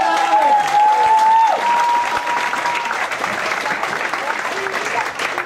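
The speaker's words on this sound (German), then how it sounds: "kriegst nochmal einen riesen Applaus hier in Leipzig" Loud audience applause at a live comedy show at the Krystallpalast in Leipzig, a full continuous wash of clapping that eases slightly toward the end, with a voice and other crowd sounds briefly rising over it near the start.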